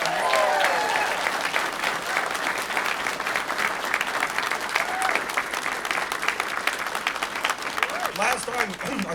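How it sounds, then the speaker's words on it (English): Audience applause at the grand opening of a Sydney call centre, a dense sustained wash of many hands clapping that fills the whole stretch at steady loudness, with no voices standing out above it. "So give yourselves a round of applause, please."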